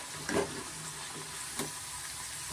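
Nippattu, crisp avarebele snacks, frying in hot oil at home, a soft steady sizzle with a few brief louder bursts, faint and close with no voices.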